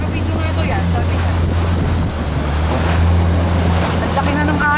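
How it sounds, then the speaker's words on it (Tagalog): Big waves slap and rush around a Zodiac inflatable boat being driven near Cuverville Island in Antarctica, a loud continuous wash of water and wind with a low outboard engine hum underneath. "Ang laki na ng alon."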